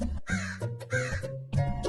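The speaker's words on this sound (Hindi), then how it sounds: "कौवा बहुत खुश हुआ।" A crow caws several times in quick succession, harsh and close, with brief gaps between the calls and nothing else heard.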